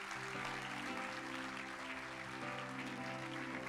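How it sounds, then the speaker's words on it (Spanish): A church congregation claps in a steady, continuous wash of applause for several seconds, fairly distant and even, with faint voices underneath. "Denle un fuerte aplauso a Dios por eso."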